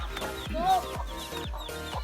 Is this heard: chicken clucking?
yes